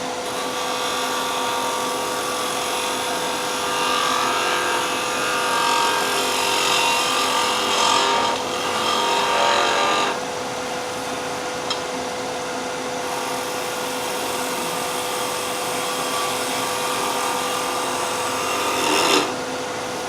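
A skew chisel shears wood on a lathe while a spiral goblet is being turned: a continuous, fairly loud whirring cut with a faint steady whine, briefly easing and roughening in places, and no talk.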